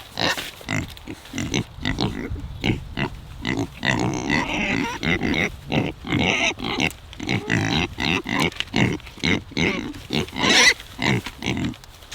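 Pigs being moved on grass grunt and oink repeatedly in close, irregular bursts, a busy, continuous chorus of snorting and rooting noises heard up close.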